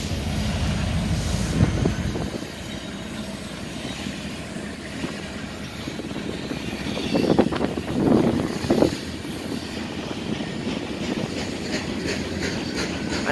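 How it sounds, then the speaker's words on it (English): A Union Pacific ET44AH locomotive, number 2601, leads a military train through downtown El Paso, Texas. A continuous loud rumble of rolling railcars fills the scene, with rhythmic clickety-clack from the wheels and no voices. "Oh, it's the military train."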